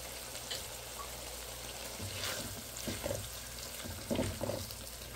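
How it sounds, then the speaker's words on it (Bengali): Two unpeeled red potatoes sauté in spiced oil, a steady close sizzle broken by a few scraping stirs. "এখন আমি 2টা আলু একটু কষিয়ে নেব।"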